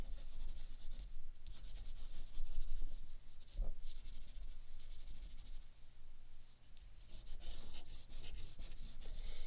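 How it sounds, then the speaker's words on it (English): Blue colour being rubbed onto paper for an artwork, steady close scratchy strokes in repeated back-and-forth bursts, soft and continuous without speech. "I'm going to go ahead and rub a little bit of the top."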